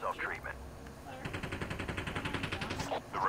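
Rapid video game gunfire in a fast automatic burst during a team firefight, mid-level and under excited voices of players talking.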